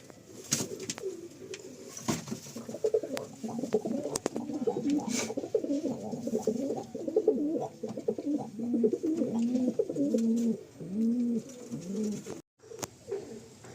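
Pigeons in a loft coo steadily and close by, a continuous run of soft, rolling, repeated calls that overlap throughout, with a few faint clicks and a brief pause near the end.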